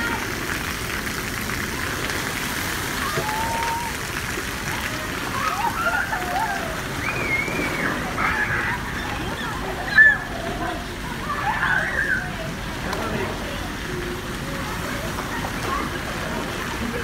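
Children splashing and running through shallow water at a mini water park, the Costa Diadema, with a steady wash of sloshing and spraying water, a sharp splash near the middle, and voices talking throughout.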